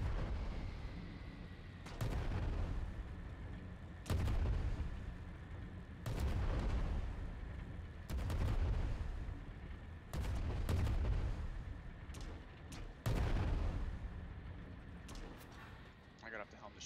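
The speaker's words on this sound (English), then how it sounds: "Oh, we're being shot at by the other one now." Ship cannon fire striking an airship in Worlds Adrift, heavy booming blasts roughly every two seconds, loud and near, with a steady rumble between hits and someone talking over them.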